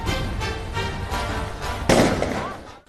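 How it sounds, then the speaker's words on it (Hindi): Continuous gunfire during riots in Karadampuri, Delhi: a series of distant pops and cracks in a noisy outdoor scene, with one louder bang near the end and voices faintly mixed in. "ये करदमपुरी से फायरिंग हो रही है लगातार"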